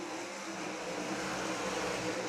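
Sprint race cars accelerate together on a green-flag restart during heat races at Waynesfield Raceway Park, a steady, loud, close engine roar that builds slightly and fills the whole moment without a break.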